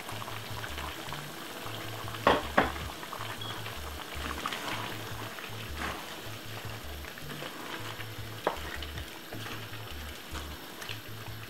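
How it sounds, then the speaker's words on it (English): Chicken stewing in its own juices in a pot bubbles and sizzles softly as vegetables are added, with a couple of brief clatters and a low, steady simmer throughout. "Put the veg inside of it."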